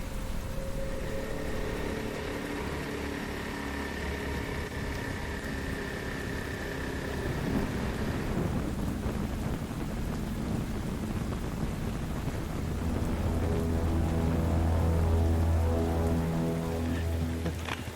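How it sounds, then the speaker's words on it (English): Heavy rain pours steadily with low rumbling thunder during a solo motorcycle trail ride on a Honda CRF300 in Sweden and Norway, a continuous loud wash with deeper rolling swells toward the end and no talking. "I got lightning and thunder all around me"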